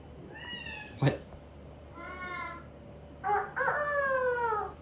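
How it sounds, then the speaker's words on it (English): Several short harmonic calls over a quiet background, ending in a longer drawn-out crowing cry, with a brief sharp knock partway through. "It's a chicken noise."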